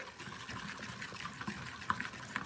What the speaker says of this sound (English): Now I'm going to add the rest of my water with my yeast in it.